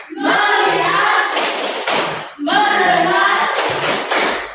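Two rounds of rhythmic hand clapping mixed with children's chanting voices during a classroom focus game, each round ending in sharp claps, lively and close.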